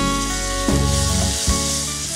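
Boiled raw banana pieces frying in a pan, a loud steady sizzle with two brief thumps or stirs partway through, over a sustained tonal background.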